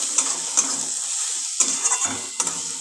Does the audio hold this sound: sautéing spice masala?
yes